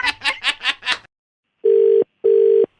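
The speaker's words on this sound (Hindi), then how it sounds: "मैं फोन रख रहा हूं, ये कॉल पूरी रिकॉर्ड हो रही है ये।" After a phone call is hung up, a brief burst of chattering voices gives way to silence, then two steady electronic telephone tones sound, each lasting under a second, separated by a short gap.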